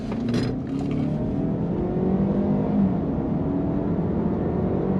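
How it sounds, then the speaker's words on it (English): A 2015-on first-generation Land Rover Discovery Sport accelerates hard, its turbocharged engine droning steadily from inside the cabin with a rising note throughout, with no voices. "Do a little acceleration test here."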